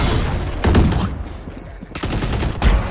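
Video game gunfire crackles in bursts, a volley near 0.7 s, another around 2 s and a heavy burst near 2.6 s, loud and close over steady game noise with a faint voice in the mix.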